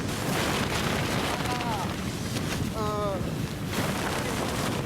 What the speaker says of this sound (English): It's just the winds are blowing really hard.